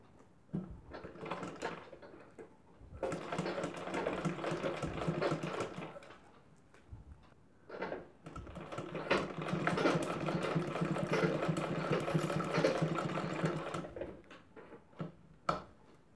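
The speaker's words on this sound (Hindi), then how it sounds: "अब दूसरे साइड भी इसमें हमें सिलाई लगा देनी है" An electric sewing machine stitches a zipper into a blouse in two long running bursts, separated by short pauses with faint clicks and handling noises.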